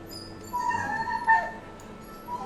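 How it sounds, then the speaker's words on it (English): Dogs in the Starbound video game yip and whimper faintly in the background, a few short cries over a quiet ambience. "Dogs are fighting again in the background."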